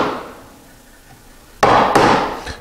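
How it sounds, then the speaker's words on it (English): Chisel chopping dovetail baselines in wood with hand tools while building a step stool: a quiet lull, then two sharp, loud, close mallet-driven strikes about a third of a second apart, followed by a lighter tap. "set the chisel in on all of the base lines for these dovetails"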